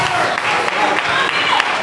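A church congregation claps steadily and briskly during a worship service, a dense patter of hands filling the space, with a voice speaking over it.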